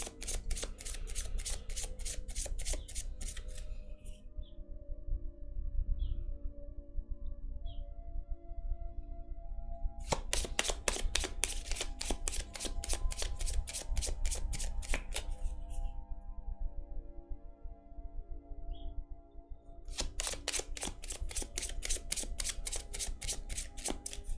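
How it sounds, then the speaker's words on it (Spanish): Repeated bursts of tarot cards being riffle-shuffled, each lasting a few seconds, separated by quieter handling and soft tapping of the deck. "para barajar las cartas"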